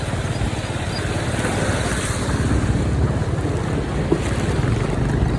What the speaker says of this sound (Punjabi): ਪਾਣੀ ਸਪੀਡ ਦੇਖੋ ਕਿੰਨੀ ਹਜੇ ਵੀ।